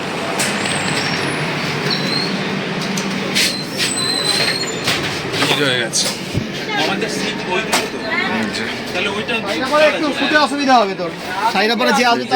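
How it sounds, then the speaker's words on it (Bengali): A long-distance train pulling out of Sealdah station, with a loud rumble of wheels on rails, hiss and squeal, and people talking nearby throughout over the steady motion noise. "আমাদের ট্রেনেই এখন ছেড়ে দিল শিয়ালদা স্টেশন থেকে"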